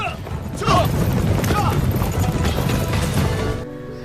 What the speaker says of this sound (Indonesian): muncul sekelompok pasukan berkuda